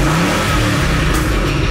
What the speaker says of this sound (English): That big, mean sounding V8 roar.